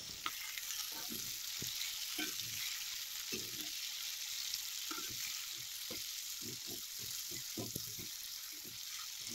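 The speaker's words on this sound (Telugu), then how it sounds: "జీలకర్ర, ఆవాలు, దంచిన వెల్లుల్లి, పచ్చిమిరపకాయలు, కరివేపాకు, ఎర్రగడ్డలు వేసి బాగా వేయించుకోవాలి." Cumin, mustard seeds, crushed garlic, green chillies, curry leaves and onions frying in hot oil, a steady hiss with scattered crackles and spatters, close and continuous throughout with no talking.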